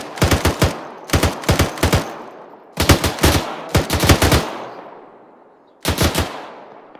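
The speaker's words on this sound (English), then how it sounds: "What are you guys shooting at?" Bursts of automatic gunfire in a military video game: five separate rapid volleys of three to six loud, sharp shots each, spaced by short pauses, with no voices.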